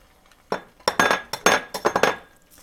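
Eggs cracked one after another into a pan while cooking a Christmas breakfast, giving a run of sharp close clicks and taps of shell against the rim, clustered irregularly over a couple of seconds.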